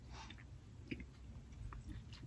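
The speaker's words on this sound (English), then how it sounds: "It's taking a long time to chew it." Close, soft chewing of a sticky treat, with quiet wet mouth sounds and small bites repeating over a couple of seconds.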